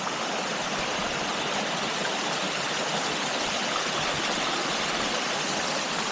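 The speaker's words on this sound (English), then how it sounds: "This goes on down, of course, to the North Chick Creek." North Chickamauga creek flowing along a forest trail, a steady broadband rush of running water with no breaks, close and fairly loud throughout.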